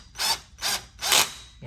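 A drill drives a screw into a corner desk during assembly, in three short whirring bursts with brief pauses between, close and fairly loud, no talking.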